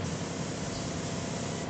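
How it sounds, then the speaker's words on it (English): Steady, continuous hiss of an airbrush spraying paint onto a Gunpla model kit part, even and close with no pauses. "now Boris, you can put away your airbrush away from the part when you spray the color."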